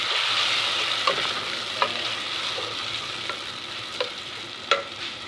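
Onions with ginger garlic paste being stirred in a frying pan, a steady sizzle of frying with a few sharp scrapes and clicks of the spoon at irregular intervals, close by and alone without speech.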